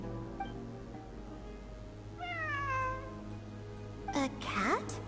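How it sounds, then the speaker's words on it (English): A cat in Genshin Impact lets out a couple of soft, descending meows over a steady low hum of game ambience, followed by a brief higher mewing cry near the end. "It really is a cat."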